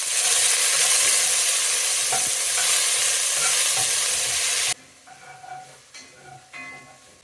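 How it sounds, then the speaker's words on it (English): Vegetables sweat in oil inside a Dutch oven, giving a loud, steady close-up sizzle that cuts off abruptly partway through, leaving quieter clinks and faint kitchen sounds. "put these vegetables into my Dutch oven with a little bit of oil, and we're gonna let them sweat down"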